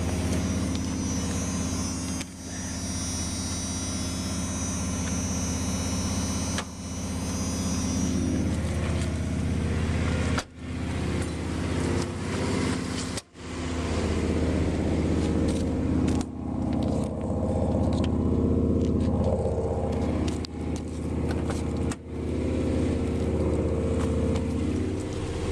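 A Dodge Dakota pickup running on 100% wood gas from a gasifier idles steadily near 2,000 rpm, a continuous close engine drone with a few brief dips, no talking over it.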